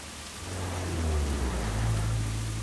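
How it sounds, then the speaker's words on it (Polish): Steady rain hiss in The Crew racing game, a constant wash of falling rain with a low engine-like hum underneath, no talk. "Nadal deszczyk"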